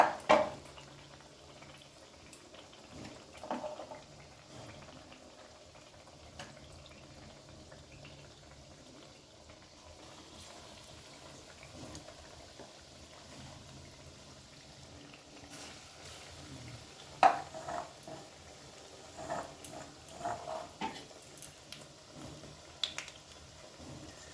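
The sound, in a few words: battered vegetable fritters (beguni) deep-frying in oil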